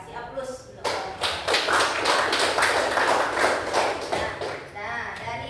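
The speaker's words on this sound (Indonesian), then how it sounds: "Kasih aplaus untuk kelompok" A classroom group of students gives applause for a presenting group, a burst of clapping lasting several seconds after a teacher's voice, then fading back toward speech.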